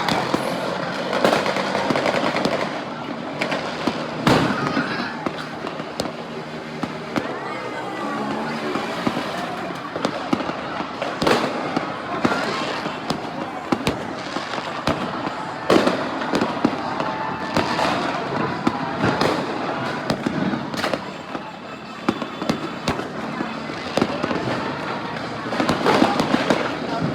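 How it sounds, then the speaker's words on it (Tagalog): Dragon fireworks bursting at a New Year celebration, a dense, continuous barrage of crackles and booms, with people talking and exclaiming throughout. "Dragon fireworks."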